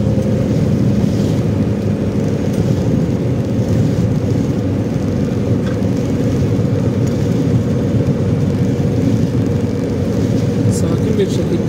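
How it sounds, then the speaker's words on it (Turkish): Strong wind buffets a microphone in a continuous, loud rumble beside a caravan on a road trip near an Austrian border crossing. The roar is steady throughout, with faint higher noise above it. "rüzgar sesi yansıyorsa kusura bakmayın."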